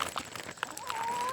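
Chickens cluck faintly in short scattered calls at a yurt homestead, with a thin rising tone carrying through the second half, no speech.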